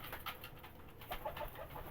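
Rampuri pigeons kept with their chicks give soft, low cooing calls, a few faint, rounded coos close by in a quiet setting.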